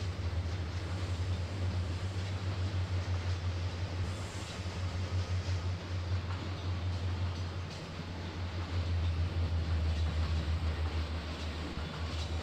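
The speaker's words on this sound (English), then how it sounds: "Nice train." Train in the Trainz: A New Era railway simulator, a steady low engine drone and rolling rumble that continues close and unbroken, swelling slightly near the end, with no talking.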